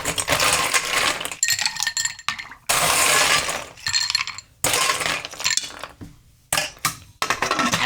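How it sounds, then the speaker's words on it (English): Ice cubes clatter and clink loudly into a glass or shaker while a cucumber-melon cocktail is mixed, arriving in repeated bursts separated by brief gaps. "And then we'll put our ice."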